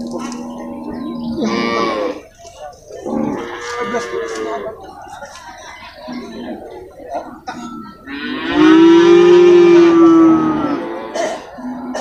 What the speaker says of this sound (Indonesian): Ini ya guys, sapi limosin nih.